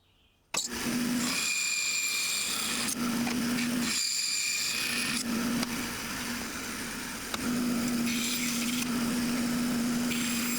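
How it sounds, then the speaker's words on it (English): Someone cutting a ledge for a marking-knife blade into wood with a small power tool, heard as close, loud, continuous whirring and grinding that surges and dips in a few repeated passes, with no talk. "Gonna cut in the ledge for the blade here"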